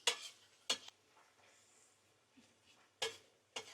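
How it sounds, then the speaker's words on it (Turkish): Tomato paste is being sautéed in a pan, with a few sharp spoon scrapes and clinks against the pan spaced apart over a faint, quiet sizzle. "Biraz da salçayla salçanın da kokusunun çıkması için biraz kavuralım."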